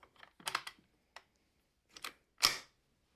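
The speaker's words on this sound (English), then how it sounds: "Let's get some dummy rounds in here, test it out." Dummy rounds are loaded into a Ruger 10/22 rifle, giving a few sharp metallic clicks and snaps with short gaps, close and crisp in a quiet room.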